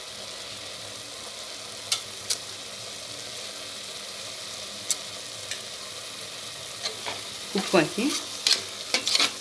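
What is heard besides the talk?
mushroom biryani masala sautéing in oil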